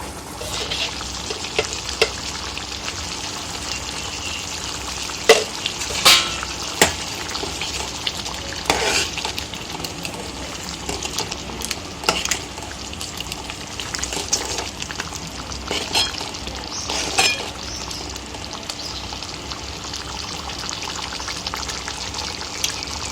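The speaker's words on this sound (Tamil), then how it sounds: "புளி சேர்த்து நல்லா கொதிக்க ஆரம்பிச்சிருச்சு." Thick tamarind sauce for garlic thokku bubbling and simmering steadily in a pan, with intermittent scraping and clinking as it is stirred, no voices.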